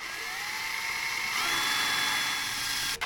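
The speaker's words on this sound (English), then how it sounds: "I'm not wild about drilling holes in my new motor" A power drill bores holes into a new outboard motor while a propeller protector is fitted, giving a steady high whine that holds for about three seconds before cutting off abruptly.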